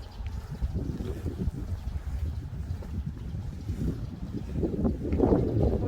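Strong wind buffeting an outdoor microphone near a township office, a low rumbling roar that surges and gusts louder toward the end.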